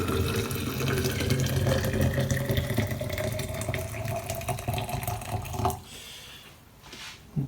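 Just-boiled water pours steadily into a tall glass jar with a dense gurgling rush, then cuts off, leaving a few quieter splashes and trickles.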